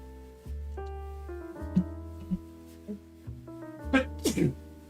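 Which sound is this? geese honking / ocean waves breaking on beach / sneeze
sneeze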